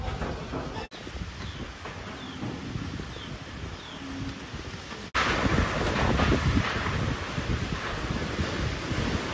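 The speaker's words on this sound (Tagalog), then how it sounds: "hindi pa rin tumitigil ang lakas ng hangin at malakas na pag-ulan" Strong wind roars and buffets against the microphone continuously during a storm with heavy rain, with a brief dropout, then surges louder for the remaining seconds.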